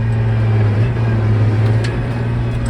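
A steady, loud low engine drone from a John Deere 8300 tractor during a gear upshift, with a deep rumbling hum, running continuously without a clear change in pitch.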